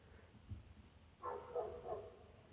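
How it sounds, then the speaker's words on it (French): A dog barks three times in quick succession, somewhat distant and moderately loud, with a faint low thump just before. "Il y a un chien qui aboie"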